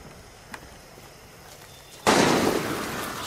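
Gunfire in the video game Far Cry 6 breaks out suddenly as a loud, dense burst that continues as a sustained roar after a quiet stretch with faint ticks.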